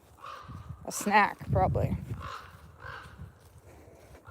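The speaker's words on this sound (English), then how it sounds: "Wonder what that crow wants." A crow caws out in the British Columbia bush, a few harsh calls at mid distance with someone talking over and between them outdoors.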